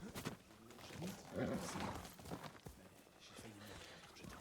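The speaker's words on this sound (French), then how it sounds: "Il est où mon cheval?" Horse hooves clip-clop at a walk in the video game Ghost of Tsushima. The beats are soft and irregular against ambient game sound, with speech partly over them.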